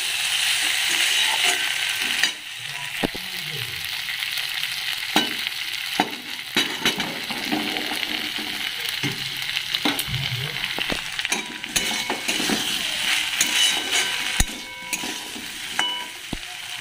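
Fish frying with tomato and soybeans, stirred in a pan: a loud, steady sizzle runs throughout, broken by scattered scrapes and clicks of the spoon, close up with no one talking.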